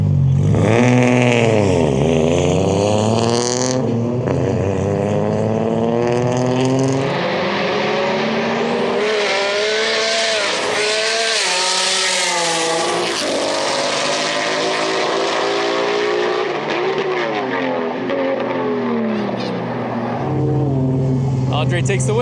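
Drag race cars, including a VQ DCT 240 entry, launching and accelerating hard down the strip, loud engine notes sweeping up through gears with voices heard over parts of the run.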